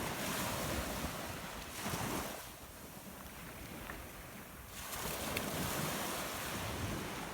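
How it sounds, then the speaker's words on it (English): Waves wash onto a shell-covered Florida beach in slow surges, a broad roaring hiss that swells, eases off briefly, then rises again, with wind in the background. "Love the sound of the waves."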